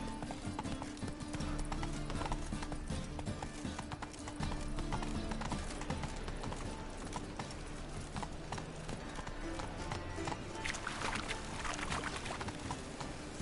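Horse hooves clip-clopping steadily on the ground in The Witcher 3 video game, a continuous galloping rhythm with a brief neigh, heard close over ambient game sound.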